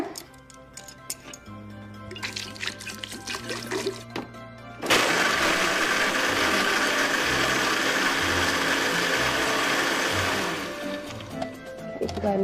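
A blender whirs through nuts, honey and water to make nut milk, a loud steady grinding roar that kicks in abruptly after some clinking and ticking sounds and runs for several seconds before easing off.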